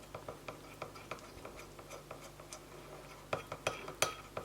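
A utensil stirring a thick red edible fake blood mixture of topping and drops of red food colouring in a bowl, giving soft repeated clinks and scrapes that grow louder and sharper near the end, close up and alone.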